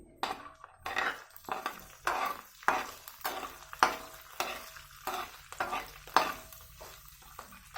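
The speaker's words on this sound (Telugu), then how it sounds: "కరివేపాకు అండి ఇవన్నీ వేసి తిప్పాలి" Curry leaves frying in oil in a pan while cooking upma, with a spoon stirring in repeated scraping strokes over a soft, steady sizzle.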